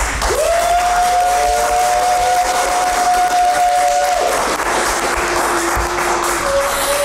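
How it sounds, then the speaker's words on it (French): A studio audience on a Fête de la Musique television set in Dakar applauds loudly and continuously, with thick, close clapping and some cheering. A sustained electronic tone rises and holds above the clapping. "j'attends vos applaudissements pour moi"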